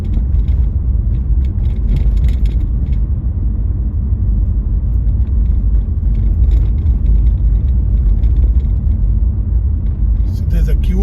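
A car on a driving-test route near Manchester pulls away and drives along a road, giving a steady low engine and road rumble from inside the cabin beneath continuous talking.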